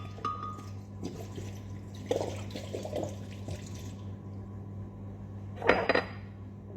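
Water splashes and trickles into a mixer grinder jar amid clinks of the jar and utensils, in short bursts with a steady low hum behind.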